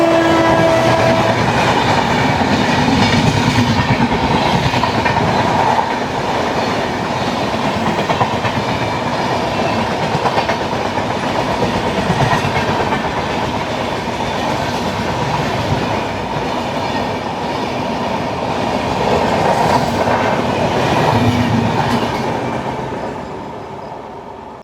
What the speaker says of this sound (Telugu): మన ట్రైన్ అయితే గరీబ్రథ్ అయితే ఓవర్టేక్ చేస్తుంది.